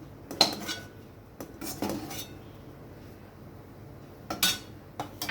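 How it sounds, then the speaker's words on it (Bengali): A metal wok being taken off the stove and scraped clean in a home kitchen: a few sharp scrapes and clanks of metal on metal, spaced apart, with quiet pauses between them. "এবার নামিয়ে নেব, কড়াইটা পরিষ্কার করে নেব।"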